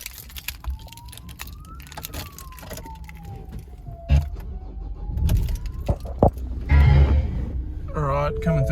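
A 2016 Ford Ranger XLT pickup with manual transmission starts up: door and key clatter, then a rising engine rumble that settles into a steady close idle, with a distant siren wailing behind early on.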